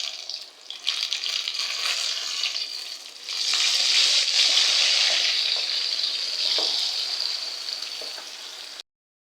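Steady oil sizzling and crackling of brinjal frying, loud and continuous, swelling louder midway before cutting off abruptly near the end.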